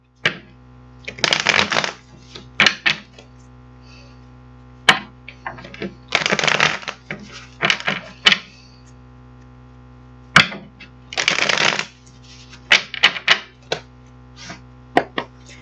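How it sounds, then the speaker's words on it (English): Tarot cards shuffled by hand in several quick, crisp riffling bursts separated by short pauses, close and clear over a steady low background hum. "I'm going to get these cards shuffled up."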